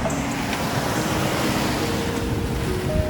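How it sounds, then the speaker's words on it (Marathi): Rough, swollen sea surges against the Malvan coast with a continuous loud roar of breaking surf, mixed with wind buffeting the microphone. No voices are heard. "समुद्राला आलं आहे उधाण"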